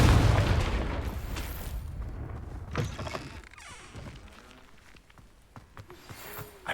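A Confringo blasting spell goes off in the Hogwarts Legacy game, a loud booming burst at the start that fades into a crackling, rumbling tail, followed by scattered pops and smaller impacts.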